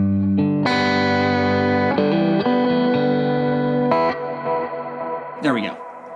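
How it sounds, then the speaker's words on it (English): Electric guitar chords ring out with a heavy delay effect, each strum trailing into repeating echoes before a final bending note. "I can't quite hear that delay, so I'm going to go and turn that up."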